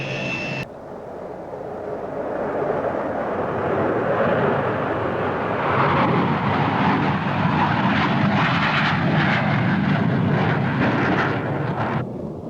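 Grumman A-6E Intruder, a US Navy/USMC carrier attack jet, with a steady loud engine roar that swells after the first second and holds as a broad, continuous rumble to the end, with no voices.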